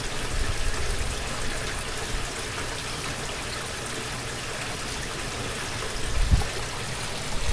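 Steady rushing, bubbling water flows through PVC aerating baffles in a fish tank mounted in a Dodge van, a continuous close wash with a brief louder gurgle near the end.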